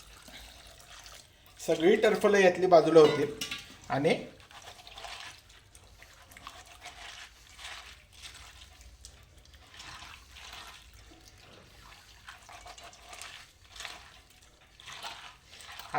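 Water splashes into a bowl of black-eyed peas as husks are loosened, a short gushing pour near the start followed by faint wet rustling, with someone talking throughout.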